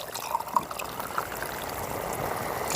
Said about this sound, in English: So now it's time to add some water.